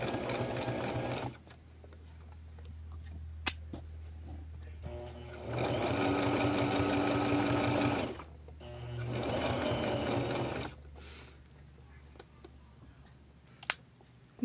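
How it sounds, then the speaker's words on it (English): A sewing machine stitching a cell phone charger case runs in two sustained bursts of steady mechanical whirring, close and moderately loud, with a low hum and a few sharp clicks in the quieter stretches between them. "I'm going to sew to the end and then I'm going to back up"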